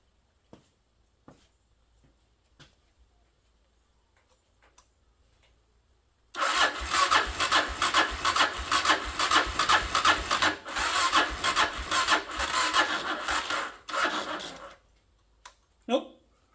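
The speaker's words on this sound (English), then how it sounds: "Now, any chance it'll start without putting the battery pack on" An engine is cranked with a long, loud run of rapid starter churning that goes on for several seconds and fails to catch, followed by a short final burst of cranking, with quiet clicks before it.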